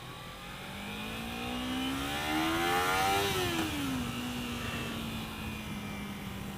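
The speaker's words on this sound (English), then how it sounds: "Very smooth engine." Motorcycle engine of a 2015 Kawasaki Ninja 300 revving up, its smooth, steady drone climbing to a peak around mid-clip and then easing back to a settled hum, with no talking.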